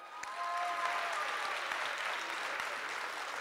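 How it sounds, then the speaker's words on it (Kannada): Audience applause for New York Kannada Koota members at the KCO Brindavana 20th anniversary celebration, a dense, steady wash of many hands clapping that holds at full strength for several seconds. "ಅವರೆಲ್ಲರಿಗೂ ಕೂಡ ದೊಡ್ಡ ಚಪ್ಪಾಳೆ"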